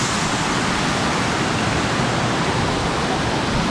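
Waterfall at Meethrigala roaring steadily, a dense, continuous rush of falling water that fills the whole scene at close range with no pauses or other sounds.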